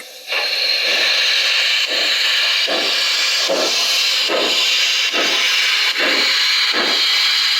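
Loud steady steam hiss with a heavy, regular exhaust chuff pulsing about once per second, from a Lenz O gauge DB class 01 model steam locomotive with DCC sound in heavy-load mode.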